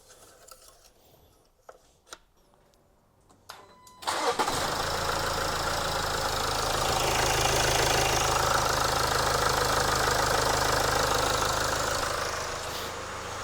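A Land Rover Discovery Sport Ingenium diesel engine cranks and fires after a few quiet clicks, then settles into a loud, steady, clattering idle close by, easing slightly toward the end.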